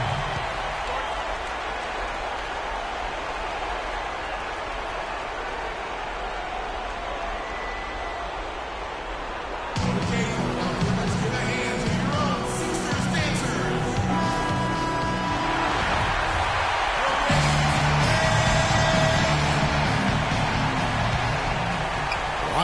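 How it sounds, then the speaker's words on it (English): A loud basketball arena crowd roars continuously during a game, its noise swelling louder partway through, with a commentator talking over it. "how about the intensity and focus of the crowd here? So loud in this place."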